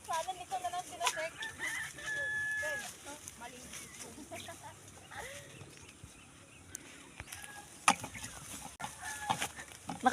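Chickens cluck and squawk close by in a rural Filipino yard, with repeated short calls. People talk throughout.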